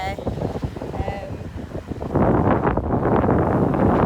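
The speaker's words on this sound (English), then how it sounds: "It's very windy." Strong wind gusts on a rocky coast in Boa Vista, Cape Verde, buffet the microphone with a loud, roaring rush that swells after a couple of seconds.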